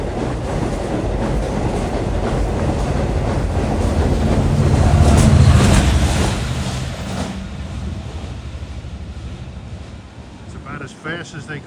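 A fast Long Island Rail Road train races westbound through a station without stopping. Its loud rushing rumble swells to a peak midway, then eases off, with wheel clatter and clicks trailing at the end.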